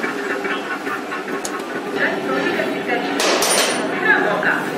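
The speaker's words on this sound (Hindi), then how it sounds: "और दोनों को हम टाइट कर देंगे" Metal tool knocks and clanks while mounting bolts are tightened on a Hero Maestro scooter engine during a workshop refit, several sharp taps over steady background noise.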